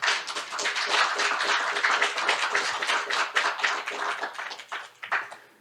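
Applause for two lawmakers at an accounting reform forum, a sustained round of dense hand clapping from the audience that thins out toward the end, with no one speaking.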